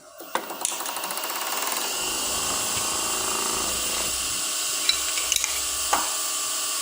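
A wood lathe roughing out a small ornament blank held in a chuck, giving a steady, fairly loud broadband tool-on-wood scraping that runs continuously with a few sharp knocks and ticks.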